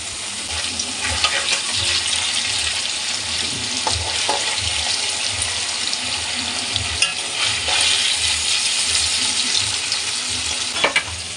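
Paneer cubes frying in a pan, a steady close sizzle of hot oil running throughout with occasional stirring clicks and light scrapes, no voices.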